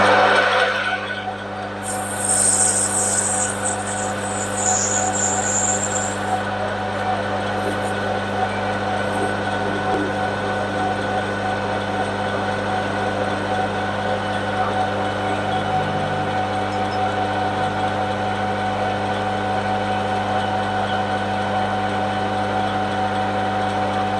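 Machine cutting a metal plug for a 3/8 BSP thread, running as a loud, continuous, steady machining hum with a brief higher whine near the start.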